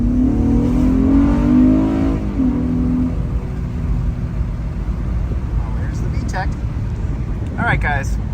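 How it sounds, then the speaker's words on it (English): A Honda Passport fitted with a Stage 1 intake and high-volume hood scoop revs up loudly, a steady engine roar with a rising then falling pitch, while people talk over it throughout. "we're just gonna step on it a little bit and show you guys, just so you guys can hear the different sound"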